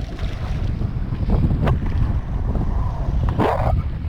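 Water rushes and hisses beneath a foil windsurf board off Cape Hatteras, a steady close spray under heavy wind buffeting on the microphone, with a brief sharper splash near the end.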